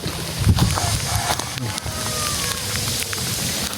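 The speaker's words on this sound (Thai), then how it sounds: "พอดีเลยฝนตกมา" Steady rain patters on surfaces nearby, a continuous hiss with scattered drips, while a voice speaks briefly.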